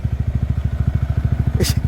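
A motorcycle engine idles with a rapid, even thumping pulse, close and steady, ending with a brief sharp scrape.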